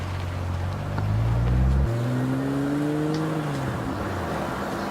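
A rally car pulls away on a stage road near Wollombi, its engine revving loudly then shifting up with rising tones as it drives off and recedes into the distance.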